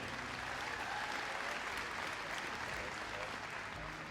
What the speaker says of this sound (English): So a big round of applause for Leo and Den.